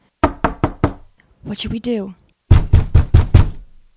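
Knocking on a door: two sharp bursts of four firm, evenly spaced raps each, close and loud, with a short spoken line in between.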